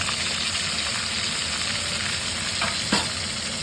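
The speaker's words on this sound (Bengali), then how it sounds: "আমি এখন এই আলু রসুন লাল করে ভেজে ওটাকে উঠিয়ে নেব।" Potato pieces and whole garlic cloves, seasoned with turmeric and salt, fry steadily in hot oil, giving a loud, even sizzle throughout with a couple of brief stirring scrapes near the end.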